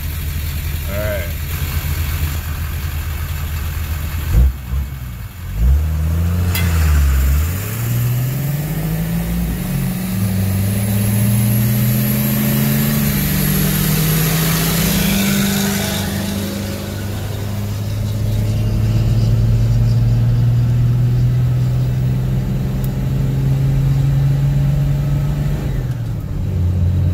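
Ford Powerstroke diesel truck idling, then revving and accelerating, its engine note rising and falling in long sweeps through gears, loud and close, with voices talking early on.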